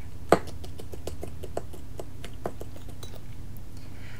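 Glass jar picked up and handled in a kitchen while making air-fryer roast pork belly, one sharp clink followed by a series of light, regular ticks and taps over a low hum.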